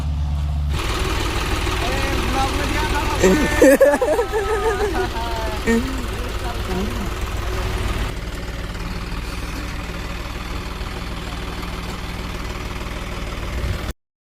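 A tractor engine idles with a steady low rumble, close and continuous throughout, while people talk over it in the middle of the stretch.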